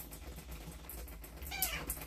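A domestic cat meows once, a short high, rising-then-falling cry near the end, after a stretch of faint quiet room noise.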